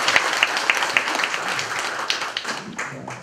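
Delegates at a union delegates' meeting applaud newly elected officers, with a few crisp rhythmic claps at the start swelling into a short round of scattered clapping that fades out as a voice briefly begins.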